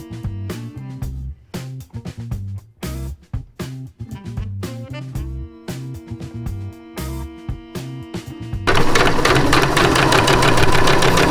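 A sewing machine stitches trim onto a pair of tear-away pants in bursts of rapid mechanical chatter that stop and start, then runs steadily and loudly near the end. No voices are heard.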